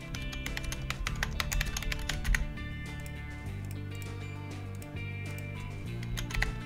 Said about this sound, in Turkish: Şurada bir ESC'ye basayım da arkada klavye mouse oynamaya devam etmesin.